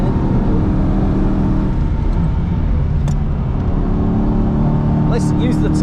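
An Aston Martin V8 Vantage GT4 race car's engine drones loud and steady from inside the cabin, pulling hard under acceleration with a dense, constant roar throughout.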